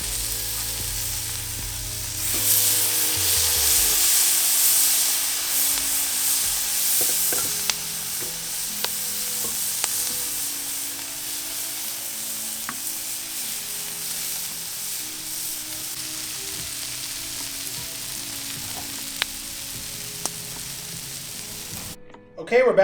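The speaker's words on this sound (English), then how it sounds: "Now you got those onions and those peppers." Onions and peppers sizzle on a Blackstone griddle in a steady, loud hiss that runs the whole time, with occasional faint clicks of a spatula and a low hum early on.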